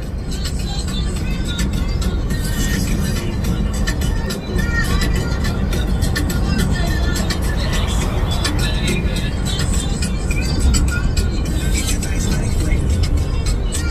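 Very loud music blasting from speaker clusters mounted on a Slingshot, a dense, continuous wall of sound with heavy bass that never lets up.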